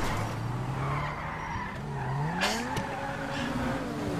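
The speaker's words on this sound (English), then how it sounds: "This is a fast car." Tires squeal in long, wavering skids from a fast car in the Grand Theft Auto V video game, under a revving engine, with no talk.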